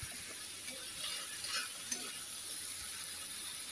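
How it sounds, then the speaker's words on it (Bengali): Boiled chickpeas stir-fried in a spice masala give off a soft, steady sizzle, with faint scraping and stirring clicks from a utensil against the pan and no talking. "এবার আমি সেদ্ধ ছোলাগুলো ওর মধ্যে দিয়ে দেবো, আর একটু ভালো করে কষিয়ে নেব।"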